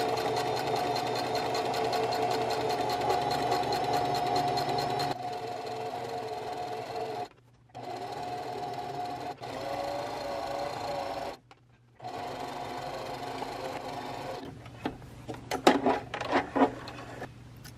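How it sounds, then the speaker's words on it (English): Sewing machine running in long steady bursts as it stitches a half-inch seam with a quick back stitch, with brief stops between runs and some fabric handling clatter near the end. "sew all the way down with this same foot, and just maintaining that 1/2 inch seam allowance"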